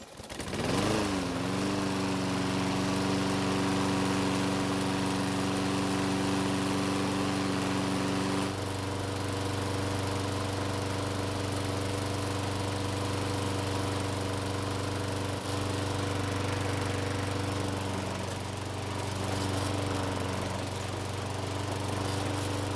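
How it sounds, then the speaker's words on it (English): A Troy-Bilt lawn mower engine, freshly repaired after stalling, runs steadily at a loud, close, even drone, with a brief pull-start surge at the beginning and a slight shift in pitch partway through. "Now in real time the engine was running for about 4 minutes"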